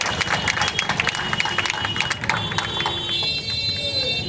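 Students and guests at a felicitation program clap in a burst of fast, uneven applause that thins out toward the end, under a steady electronic tone and some crowd noise.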